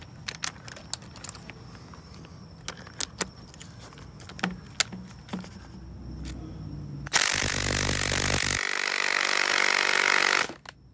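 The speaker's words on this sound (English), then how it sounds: "10mm deep socket, impact driver." A cordless impact driver with a 10mm deep socket works a glow plug on a T1N Sprinter, first scattered clicks and taps, then a loud sustained buzzing hammer burst of about three and a half seconds that shifts pitch before stopping.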